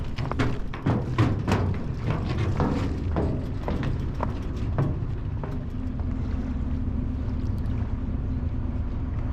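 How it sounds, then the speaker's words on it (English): Large boats on the River Rhine: a low engine rumble close by, with wind buffeting the microphone and scattered thumps early on, then a steady drone. "Watch out for the big boats."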